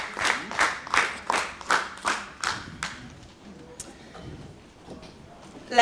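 A handful of people at a startup demo day clapping in a slow, evenly spaced rhythm of about eight loud claps, which then fade into scattered murmurs and talking.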